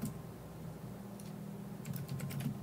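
Fast typing on a computer keyboard: a quiet, continuous patter of key clicks with a brighter cluster of taps near the end, over a low steady hum, no talking.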